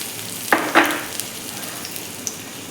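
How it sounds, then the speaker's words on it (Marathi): Dates are sautéed in a small spoon of ghee for fasting laddoos, with a soft steady sizzle, two brief stirring scrapes near the start and a few faint clicks. "ही खजूर तुपावरती छान अशी आपण परतून घ्यायची आहे"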